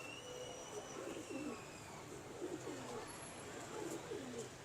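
Sheikhupuri pigeons and a blue-tailed hen cooing in a loft, soft repeated throaty coos over low background hiss, fairly close but quiet.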